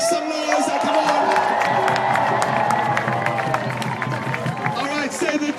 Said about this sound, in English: Now I want to hear a thunderous applause from the south side, make some noise